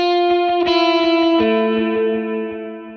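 The main verse riff of a song, played on an effects-laden electric lead guitar with chorus and distortion, runs loud and close: sustained notes with rhythmic repeats beneath them, fading slowly, with no voices.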